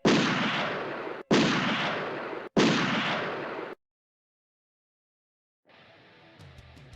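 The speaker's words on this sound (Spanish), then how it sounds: "Y sonaron los disparos." Three loud gunshots ring out in a measured volley, each blast trailing off before the next, followed by silence and a faint low rumble.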